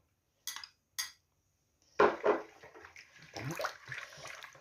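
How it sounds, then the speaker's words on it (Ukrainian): Roughly 300 ml of warm water is poured into a mixing bowl for homemade pizza dough. Two brief clinks come first, then a steady, close splashing stream runs for the final couple of seconds. "Я візьму от 300 мг водички теплої, тут в мене 300 мг. Висипаю в миску."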